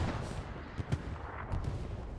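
Muffled battlefield booms and gunfire rumble at a distance in the World War II shooter Hell Let Loose on Utah Beach, with a couple of louder thuds rising above the continuous din.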